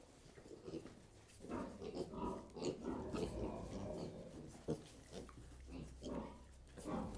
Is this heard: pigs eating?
yes